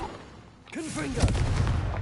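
A Confringo blasting spell cast in Hogwarts Legacy: a rising magical whoosh with swooping tones, then a loud booming burst that lingers as a rumbling explosion.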